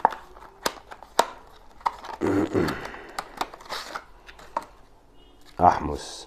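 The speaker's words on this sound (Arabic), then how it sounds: "يلا بينا نفتح العلبة." Cardboard box of a 500 GB M.2 SSD being opened by hand, with sharp close taps, scrapes and crinkling rustles scattered through the clip alongside a speaking voice.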